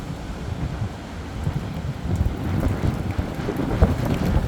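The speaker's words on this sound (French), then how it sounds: "C'est la plus puissante tempête de ma vie." Violent Storm Nils wind batters Bordeaux with gusts up to 124 km/h, a loud, continuous roaring rush that swells and buffets the microphone throughout, with no voices.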